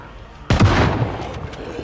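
A single loud shotgun blast goes off in the Project Zomboid video game, a sharp close report that fades into a long rumbling decay.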